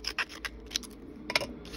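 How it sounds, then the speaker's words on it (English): Tonic Tim Holtz Mini Snips scissors make a series of quick, light snips and small clicks close by while trimming paper for crafting, with quiet gaps between cuts. "For scissors, I'm using the Tonic Tim Holtz Mini Snips. I love these for when I need to do quick trimming."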